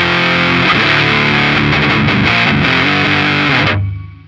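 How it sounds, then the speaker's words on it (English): Electric guitar played through a Boss HM-2w distortion pedal, heavily saturated and buzzing through a run of sustained chords and changes, loud and upfront, then cut off abruptly near the end with no voices. "this is my my second real Boss Distortion"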